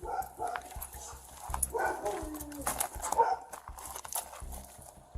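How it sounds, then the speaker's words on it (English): Dogs bark and whimper behind a fence near a property, a close run of excited barks and yips rising and falling. "he began hearing barks behind the fence"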